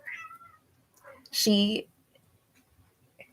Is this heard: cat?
yes